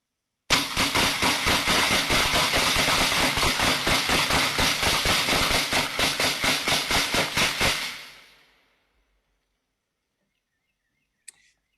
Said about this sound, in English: So you saw in the corner the gunfire.